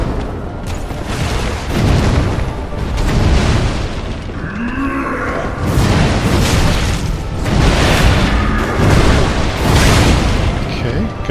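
Fire attack explosions from the Pontiff Sulyvahn boss fight in Dark Souls 3 boom repeatedly in a dense, loud game mix, with bursts roughly every couple of seconds over rumbling music and effects.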